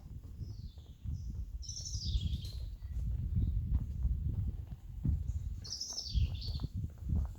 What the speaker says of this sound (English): Just the birds tweeting.